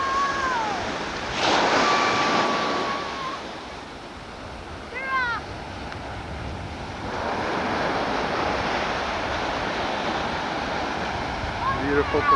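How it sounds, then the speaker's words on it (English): Gentle surf rolling onto a Pacific Ocean shore, a continuous wash of breaking waves with wind noise, swelling and easing, with faint seagull-like cries above it. "Beautiful blue water. As far as the eye can see, and gently rolling surf."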